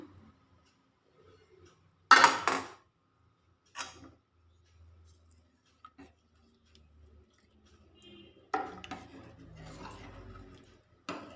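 A spoon stirs nadan parippu, a Kerala-style dal curry, in a cooking pot: one loud clank, then sparse clinks and, near the end, a run of scraping knocks against the pot in an otherwise quiet kitchen.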